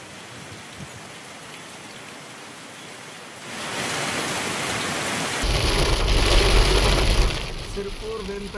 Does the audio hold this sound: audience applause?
no